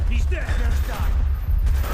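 Bursts of gunfire in a Call of Duty Black Ops battle at the Laos–Vietnam border, with rumbling shots mixed under game voices.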